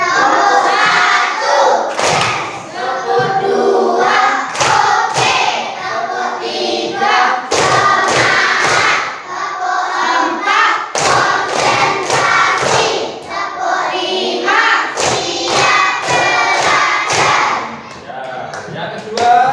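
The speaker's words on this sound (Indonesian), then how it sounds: "Yang pertama tepuk 1 ya." A school class claps hands together in counted rhythmic patterns, loud sharp claps in grouped bursts with short pauses between, mixed with children's voices chanting along.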